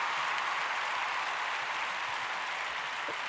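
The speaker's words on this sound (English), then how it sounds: "Let's give Doc a round of applause" Studio audience applause on a live television talk show, a steady, dense wash of clapping that fills the whole stretch without pause, loud and close with no voices over it.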